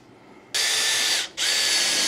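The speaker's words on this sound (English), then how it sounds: "just a 3/16 drill bit, small drill bit, you're going to drill maybe 4 or 5 holes." A power drill with a small 3/16 drill bit boring holes while installing an island range hood, two loud sustained whining bursts separated by a short pause, close up with no talking.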